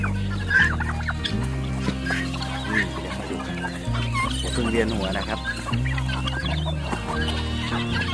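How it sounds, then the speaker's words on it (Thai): Hungry chickens, large and small birds together at morning feeding time, cluck and chirp busily and continuously at close range, while someone talks over them and a steady low hum runs underneath. "ก็เป็นบรรยากาศยามเช้าที่ไก่เขาหิวนะครับ"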